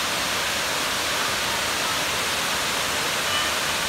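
Güzeldere Waterfall roars as a steady, loud wash of broadband rushing water, unbroken for the whole stretch and heard close up with no other sounds.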